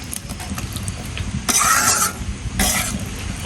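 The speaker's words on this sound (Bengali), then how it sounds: "এবার আমি মাছটা দিয়ে দেবো, মাছ দিয়ে একটু কষাবো সুন্দর করে" Fish sautéed with spices in a pan produces a low steady sizzle, broken by two loud bright hissing bursts as the pieces are stirred, close and without talk.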